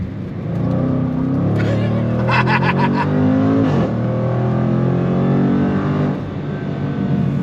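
A Jaguar F-Pace SVR 575 Edition performance SUV with an 8-speed automatic roars under acceleration, its loud engine note rising and holding steady across the clip, with a brief surge of higher revs in the middle.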